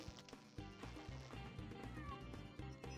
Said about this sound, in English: It's like a sad cat meow.